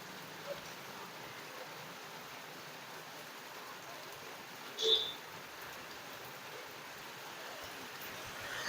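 Steady, soft rain hiss fills the scene, with a faint brief chirp and a small bump partway through; no talking.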